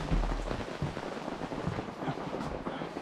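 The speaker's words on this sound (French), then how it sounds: "une vue magnifique sur la pluie de la forêt" Rain falls steadily in a forest, hissing as a dense, even wash with a few heavier drops.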